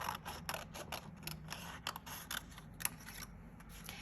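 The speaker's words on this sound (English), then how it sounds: "So I'm just gonna rough cut all these pieces out." Scissors roughly cutting out paper card pieces from a Valentine card kit, a quick run of close, crisp snips and slicing strokes in an uneven rhythm against a quiet room.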